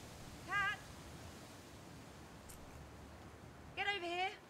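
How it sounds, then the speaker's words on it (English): A cat meows twice, a short clear meow early and a longer drawn-out one near the end, fairly close, over a quiet background hum. "Cat!"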